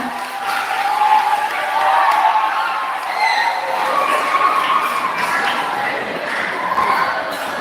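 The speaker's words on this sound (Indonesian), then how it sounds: "Kita beri tepuk tangan kepada Bapak Guru Dharma atas sambutannya" An audience at a school principal's handover ceremony claps together after a speech, a sustained wash of applause from many hands in a hall that rises and falls in steady waves for several seconds.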